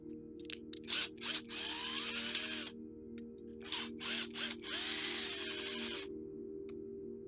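A Harbor Freight power drill whirs in short bursts and two longer sustained runs over a steady low mechanical hum, during an RC drag car build.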